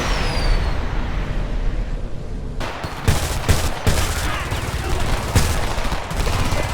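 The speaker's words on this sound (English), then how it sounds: "Don't stop shooting! You're under heavy fire!" Gunfire in a video game firefight, starting as a dense rumble of fire and turning into loud, rapid bursts and single booming shots that keep going to the end.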